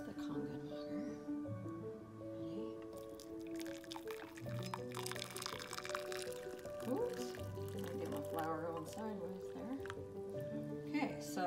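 Kangen water is poured into a glass holding tea from a tea ball, with close, steady trickling, splashing and dripping while a voice talks over it.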